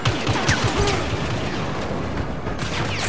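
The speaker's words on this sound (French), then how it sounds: "Déjà, on pourrait tester cette grenade là." A grenade goes off during a Star Wars Battlefront mission on Sullust, heard as a booming rumble within a continuous wash of dense battle noise.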